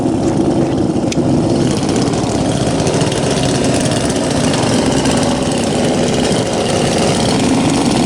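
Several chainsaws idle together just after a cold start, a steady, loud, continuous two-stroke engine drone with no pauses, close by and without speech.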